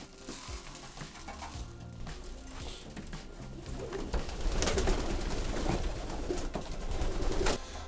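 Pigeons coo steadily at a small feeder in winter, a dense layer of soft throaty calls mixed with wing flutters and pecking, close and continuous.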